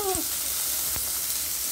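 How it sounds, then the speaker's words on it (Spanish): Precooked green beans fry in hot oil with onion and garlic, a loud, steady, close sizzle with a couple of brief stirring knocks. "Ya ahorita los voy a poner aquí a que se me dore."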